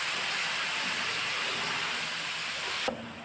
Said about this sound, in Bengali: এই চিকেনগুলোকে এতে ফ্রাই করে নিই